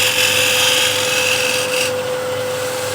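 A hand scraper shaves a wood surface in long continuous strokes, producing a loud, close rasping scrape with no talking.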